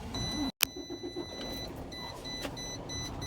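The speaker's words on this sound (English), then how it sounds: "My truck has started" A semi truck's engine at a Prime Inc cab inspection starts up after a brief cut in the sound, then settles into a steady low idle with faint dashboard chimes sounding over it.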